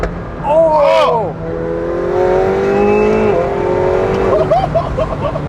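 A 2020 McLaren 720S Spider twin-turbo V8 supercar revs and accelerates loudly and close, its engine note sweeping up and down in pitch through several gear changes.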